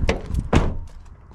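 A 2014 Peugeot 5008 door, whose edge touches the wing, shuts with a solid nearby thunk after a lighter click, followed by quieter rattles as the sound fades.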